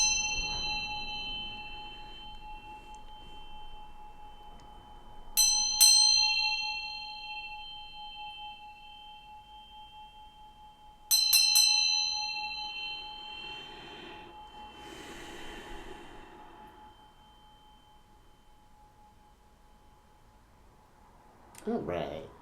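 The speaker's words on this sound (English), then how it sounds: "But let's ring this bell and let's get into this thing." A small bell rung during a spiritual reading session, struck twice with sharp metallic dings several seconds apart, each ringing out with a long sustained fading tone over quiet room sound.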